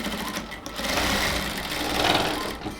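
A sewing machine stitches a folded salwar hem in a steady, close, continuous whir with a slight pulsing rhythm, alone without talk.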